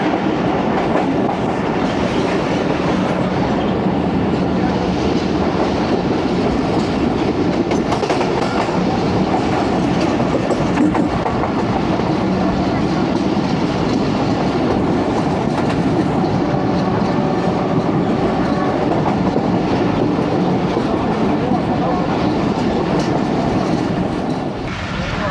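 Aboard the 13UP Awam Express between Lahore and Peshawar in Pakistan, the train runs past another train, giving a loud, steady rumble and rhythmic clickety-clack of wheels on track that carries on without break.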